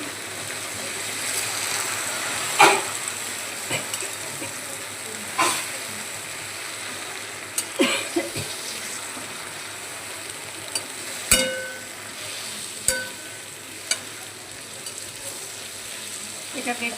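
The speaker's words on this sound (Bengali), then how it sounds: "এটা বেশ সুন্দর করে ভেজে নেব।" Bottle gourd leaves fry in a pan with a soft, steady sizzle, broken by occasional sharp clicks and scrapes as they are stirred, fairly quiet and close.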